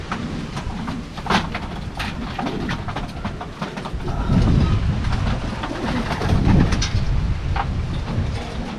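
Pigeons at a racing loft coo and call steadily throughout, mixed with a dense wash of background noise that swells louder in the second half.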